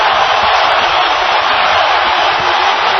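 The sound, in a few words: boxing crowd cheering on their feet near fight's end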